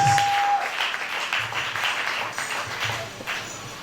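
A church congregation at a French-language Sunday service applauds and cheers for Jesus, a steady wash of clapping from many hands in a large room that continues for several seconds.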